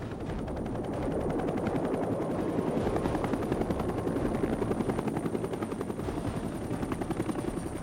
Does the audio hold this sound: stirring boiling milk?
no